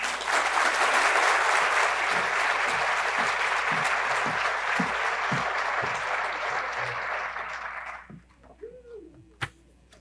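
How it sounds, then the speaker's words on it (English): A crowd at a pitch competition and graduation ceremony applauds its entrepreneurs in a dense, loud burst. The clapping fades out after about eight seconds into near quiet, broken by a few faint knocks and one sharp tap. "Let's give them another round of applause."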